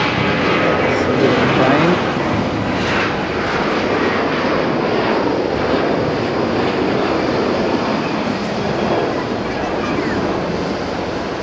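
An airplane landing at Haneda airport makes a loud, steady roar of jet engines that fills the whole stretch without letting up, with no voices.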